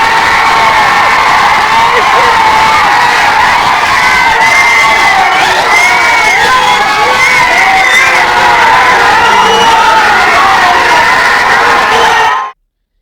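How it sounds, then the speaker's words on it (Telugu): Cinema audience in a Telugu theatre clapping, whooping and shouting as the end titles of the film Hanuman roll, a loud, dense roar of cheers and yells sustained for about twelve seconds before cutting off abruptly. "మూవీలో ఎండ్ టైటిల్స్ పడుతుంటే అందరూ క్లాప్స్ కొట్టడం, అరవడం ఎప్పుడైనా చూసారా?"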